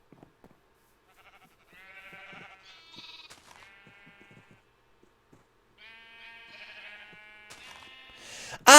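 Sheep in the Minecraft video game bleat several times in short, clear, separated calls against near silence, with no talk over them.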